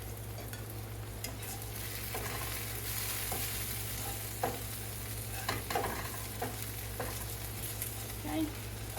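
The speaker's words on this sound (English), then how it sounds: "Give that a stir." Food sautés in a pan while being stirred, a soft steady sizzle under a low constant hum, broken by scattered light clicks and scrapes of the utensil.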